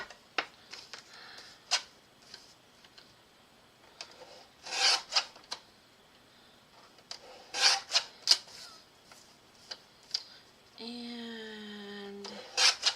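Scissors or a trimmer cut a Christmas postcard, giving short crisp snips and paper rasps at irregular intervals, fairly close and quiet, followed by a brief tonal whir near the end.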